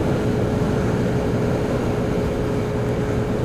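Scooter running at full throttle on level ground in a stiff wind, heard as a loud, continuous roar of engine and wind buffeting with a steady hum underneath.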